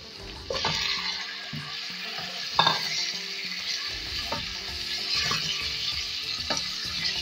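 Beef pieces frying with ginger garlic paste in a pan, a steady sizzle broken by several scraping stirs and clanks of the spoon, close and fairly loud.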